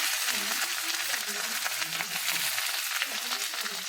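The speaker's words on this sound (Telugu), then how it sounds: "కొద్దిగా వేగంగానే ఇప్పుడు ఉల్లిగడ్డ వేసుకుంటున్నాం. తర్వాత పుదీనా వేసిన" Sliced onions and mint frying in a pan, a dense, loud, steady hiss and crackle heard close up throughout, with faint stirring underneath and no talking.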